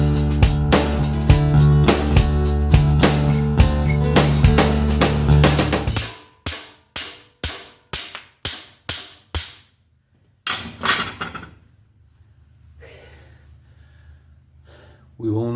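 Hammering on a stuck suspension sleeve of a 1957 Chevrolet Bel Air being fitted with CalTracs, a fast run of ringing metal blows followed by slower spaced strikes, with breathing and grunting between them, close and loud.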